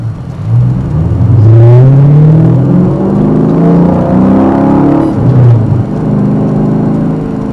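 Dodge Challenger SRT8 with a manual transmission revs loudly, its deep V8 rumble rising and falling through several strong pulls, close and powerful, with no voices.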